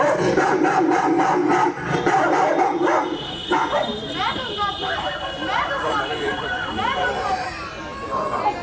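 A dog barks and yips in a dramatic Hindi film scene, with repeated barks mixed under loud, overlapping voices throughout.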